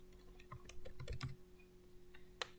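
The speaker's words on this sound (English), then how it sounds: "I'm using a Windows computer, so what I do is go over to the start bar and type in character map" Typing on a Windows computer keyboard, entering a search in the start bar: a quick burst of clattering keystrokes, close and moderately soft, followed by a pause and one last key tap, no voices.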